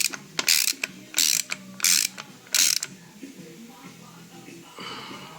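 Ratchet wrench clicking in four quick bursts while tightening thread-locked bolts on a forged Subaru EJ257 engine for an Impreza STi Prodrive build, close and loud, then quieter mechanical handling.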